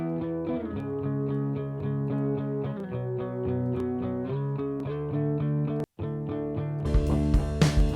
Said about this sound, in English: And it might be a little too much reverb.